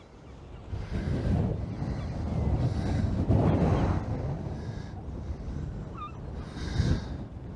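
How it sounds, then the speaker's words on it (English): Gulls calling along rocky sea cliffs on the Yorkshire coast near Filey, with a few faint cries rising over steady wind buffeting and distant surf. "A few gulls around making a bit of noise."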